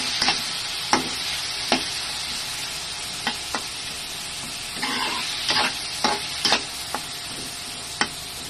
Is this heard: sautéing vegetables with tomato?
yes